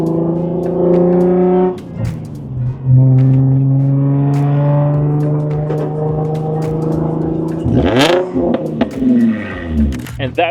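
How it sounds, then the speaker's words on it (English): An Infiniti G35 with a muffler delete: the raw, droning engine holds a steady idle, rises and falls with revs, then gives a sharp blip near the end, loud and close. "I want to show you guys how a muffler delete sounds. Spoiler alert, it's terrible."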